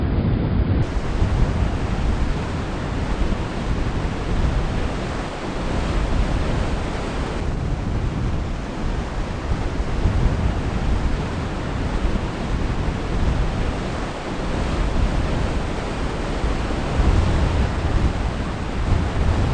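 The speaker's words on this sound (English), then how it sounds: "capturing the energy and the feeling of being out on a wind-blown beach" Wind gusts and surf roar continuously on West Strand Beach, a loud, steady wash of breaking waves and buffeting wind with no voices.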